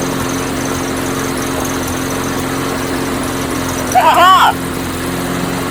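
An old pink lawnmower, repowered with a new engine, runs at a steady close buzzing drone with a rough, uneven idle, and a man briefly exclaims partway through.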